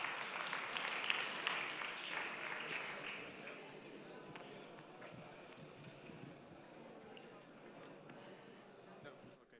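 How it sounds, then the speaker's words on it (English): Applause at a re:publica 2016 Fashion Hack Day finals presentation, greeting a participant, with a dense burst of clapping that slowly thins and fades, voices under it. "please give a warm applause for our participant"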